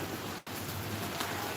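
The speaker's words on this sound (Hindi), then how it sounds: "ये कहा जा सकता है कि मानसून की पहली बारिश है।" Monsoon rain falls steadily in Ranchi, Jharkhand, a dense even hiss of drops that holds throughout with one brief dip near the start, and no voices.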